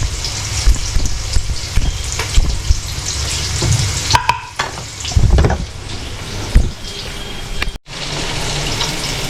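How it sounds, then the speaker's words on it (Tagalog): Garlic and onions sautéing in a pan for ginisang upo, a steady loud sizzle with frequent stirring scrapes and clatters, briefly dipping near the end before resuming. "At nag-brown na po ang ating mga bawang at saka sibuyas mga kainyo."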